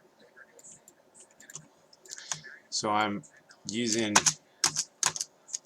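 Quiet computer keyboard typing and mouse clicks tap in scattered bursts at a live music production and visual coding setup, with a person speaking in between.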